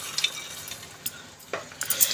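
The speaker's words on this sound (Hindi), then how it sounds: "मैं हाई फ्लेम पर ये सब्जी बहुत जल्दी फ्राई करके बना ले रही हूँ" Vegetable curry with black chickpeas frying in a pan on high flame, faint scraping stirs and soft clinks of a spoon against the pan over a low sizzle, sparse and close.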